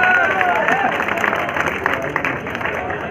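An audience applauds at a bodybuilding show, a busy wash of clapping and some cheering that fades slightly over a few seconds, with a voice speaking over the crowd.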